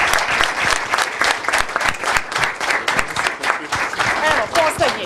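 Audience applause at a Faculty of Computing graduation ceremony, dense sustained clapping from a large crowd filling the hall, loud and close throughout, with voices faintly mixed in.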